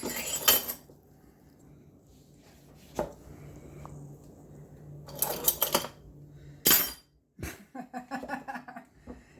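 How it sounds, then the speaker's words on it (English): Dishes clink and knock as a bowl is pulled from a stack in a home kitchen, with a few sharp, close clatters separated by quiet stretches. "Let me grab a bowl real quick"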